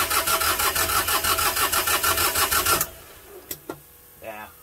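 An Onan Cummins 12.5kW generator engine cranks loudly and rhythmically for nearly three seconds without starting, then stops, leaving a few faint clicks and knocks.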